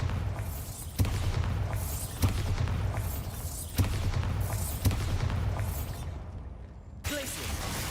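The Bombarda explosion spell goes off repeatedly in Hogwarts Legacy: a series of booming bursts roughly a second apart, each followed by a rumbling tail, loud and close over a continuous game soundscape.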